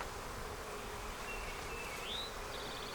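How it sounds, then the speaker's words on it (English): Honey bees swarm around a frame of a red Flow Hive, a dense, even buzzing of many insects close by and continuous throughout, with no talk. "You're my good bees, aren't you? You're the ones in there bringing in the good stuff."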